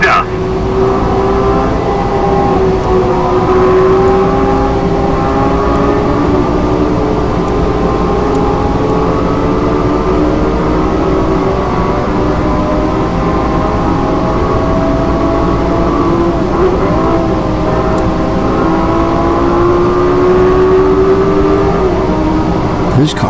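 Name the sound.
cars racing in a video game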